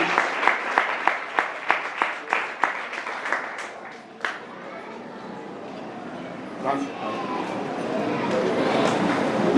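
Congregation in a church clapping in unison, about a dozen sharp rhythmic claps that then dissolve into a looser, sustained round of applause with voices mixed in.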